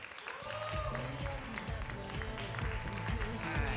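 An audience at an open stage variety show claps steadily in a dense burst of applause, with scattered whoops and a voice speaking over the crowd.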